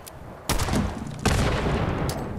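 Grenade explosions in the Fallout 76 video game: two heavy blasts about a second apart, the second followed by sustained rumbling and crackling gunfire-like noise, loud and close.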